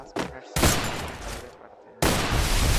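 Rapid bursts of video game gunfire ending in a headshot: loud, close volleys that stop briefly and then return in a dense barrage.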